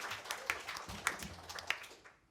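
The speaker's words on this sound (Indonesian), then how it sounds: "Tepuk tangan dulu" Quiet clapping from the audience at a high-school quiz competition, scattered claps with a few sharper hits, fading out within a couple of seconds.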